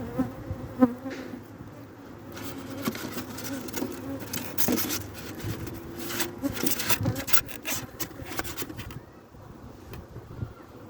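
Honeybees from a weak hive recovering after cold weather drone in a steady, close buzz, with scattered rasping and rubbing noises against the wooden hive as it is handled and closed.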